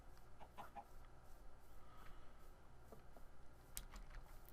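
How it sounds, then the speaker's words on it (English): Chickens in the video game Minecraft cluck in a few short, faint bursts early on, over a quiet background with no talking. "there are a lot of chickens around here"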